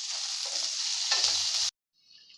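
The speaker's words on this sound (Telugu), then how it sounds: "ముందుగా కట్ చేసుకున్న క్యాప్సికమ్ ముక్కలను కూడా వేసుకోవాలి. 1 నిమిషం పాటు ఇలా కలుపుకొని 1 నిమిషం పాటు మూత వేసుకొని వీటిని ఫ్రై చేసుకోవాలి." Capsicum pieces frying in a pan give a loud, steady sizzle that stops abruptly, followed by a fainter sizzle resuming near the end.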